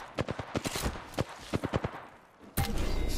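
Incoming gunfire in the Apex Legends video game, a string of sharp, fairly close shots in uneven bursts, followed by a louder sustained burst at the end.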